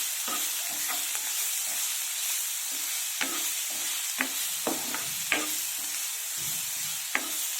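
Sliced onions and green chillies frying in a pan for lobia curry, a steady soft hiss of oil with scattered light scrapes and taps of stirring, close and without talk.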